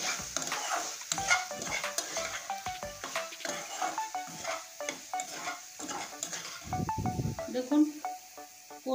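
Spice paste and potatoes are stirred and scraped in a pan, a steady run of close, rhythmic clinks of a spatula against metal over a soft sizzle, continuing for several seconds without pause.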